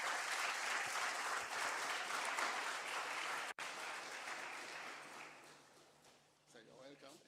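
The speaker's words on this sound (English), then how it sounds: "A round of applause for him." Conference audience applauding a guest speaker, dense sustained clapping that fades toward the end, where a voice begins speaking.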